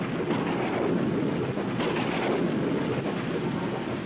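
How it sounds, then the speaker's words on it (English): A thunderstorm with heavy pouring rain, a steady dense roar of rainfall and rumbling thunder that swells midway, continuous and close with no voices. "It started to pour with rain, and there was thunder and lightning everywhere."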